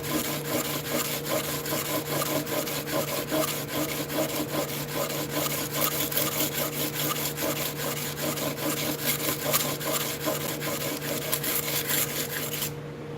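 A hand plane is rubbed back and forth on coarse sandpaper, giving a steady, close, gritty scraping. The strokes run evenly and unbroken for the whole stretch, with a low hum underneath.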